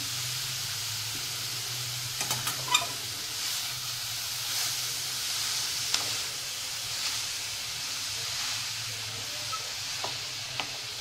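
Grated carrots sautéing in ghee for gajar halwa give a soft, steady sizzle and hiss with occasional stirring scrapes, faint and close, with no talking.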